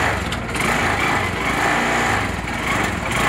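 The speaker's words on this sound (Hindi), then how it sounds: "बाइक को स्टार्ट करते हैं" A motorcycle engine runs in gear on a stand during home chain cleaning, a steady buzzing drone with the chain whirring continuously, close and loud throughout.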